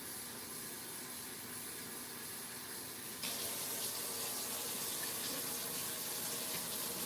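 Tap water runs steadily into a cooking pot in a home kitchen, a continuous hiss that grows louder and fuller partway through as the pot fills.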